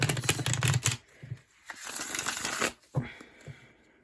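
Tarot and oracle cards shuffled for a reading, a dense riffling flutter up close that runs for about a second, then continues in looser bursts with brief gaps.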